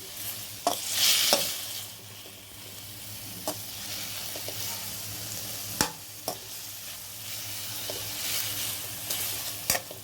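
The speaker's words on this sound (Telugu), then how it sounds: "ఇలా ఇట్లా కలుపుతూనే ఉంటే అప్పుడు కింద మాడిపోదనమాట" Tomato chutney cooking down in a pan and stirred continuously, a soft steady simmering sizzle broken by sharp spoon clinks and scrapes against the pan at irregular intervals, no voices.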